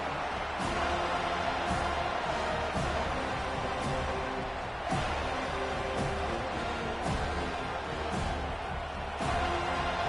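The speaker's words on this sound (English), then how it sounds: "Here comes this home crowd as the defense tries to get off the field on third down." Home crowd at a college football game between Pittsburgh and Florida State, a steady dense roar from a packed stadium on third down, with bursts of noise rising and falling throughout.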